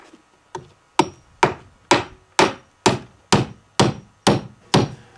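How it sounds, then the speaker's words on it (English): Steady hammer blows driving nails into wooden slipforms for stone masonry, about ten sharp, evenly spaced strikes ringing close and loud with no talk. "then nail the forms together."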